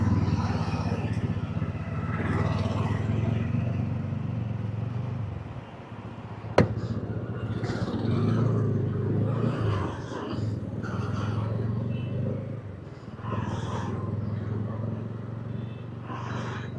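TVS Ronin motorcycle being ridden: a steady low engine drone runs throughout with slight rises and dips, a brief click partway, and occasional voices over it.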